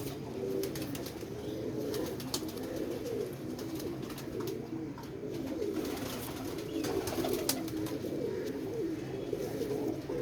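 Netted plain white pigeons coo repeatedly in low rolling calls, with occasional wing flutters and taps, close by and continuous for several seconds, no talking.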